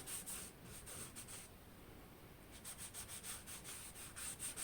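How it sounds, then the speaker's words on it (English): Dry starch rubbed by hand along the sticky spine of a handmade open-spine book, a soft continuous brushing friction in repeated close strokes, quiet and steady with no talking. "the sticky parts of my spine, just rubbing some starch on"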